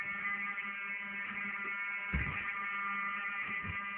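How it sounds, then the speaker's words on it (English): A building fire alarm rings continuously as a harsh steady buzzing tone, heard somewhat distantly and muffled, with a brief thump partway through. "I wanted to hear the fire alarm"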